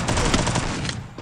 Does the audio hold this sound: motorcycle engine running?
no